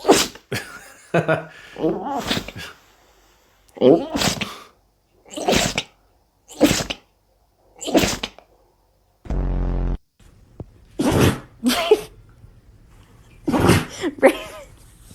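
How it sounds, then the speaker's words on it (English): A loud, sharp sneeze bursts out alone between bouts of nearby talking, followed by a low hum and more speech. "nothing quite like a good sneeze"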